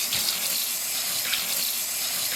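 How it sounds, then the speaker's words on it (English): Tap water runs steadily into a sink as pickles are rinsed, a continuous close hiss of splashing water with no talking. "So we will gently pick them up and wash them off real good."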